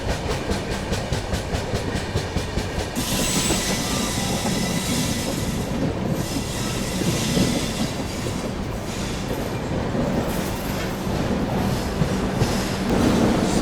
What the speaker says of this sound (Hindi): अपनी राजधानी एक्सप्रेस दोस्तों पहुंच रही है ग्वालियर जंक्शन